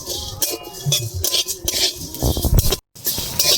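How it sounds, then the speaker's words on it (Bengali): Spices, coriander among them, are stirred and fried in a pan with a utensil, giving close scraping, clattering and tapping against the metal in uneven bursts, with a brief gap near the end. "ভালো করে নেড়ে চেড়ে ভেজে নেব।"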